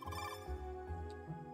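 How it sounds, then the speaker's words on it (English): A phone-call ringtone in the video game CrossCode plays as a quiet, melodic electronic ring over soft background game music. "It's just like a phone call."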